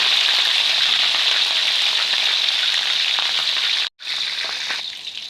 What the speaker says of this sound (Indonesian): setelah minyak panas, kita masukkan tahu yang sudah diiris-iris tadi ya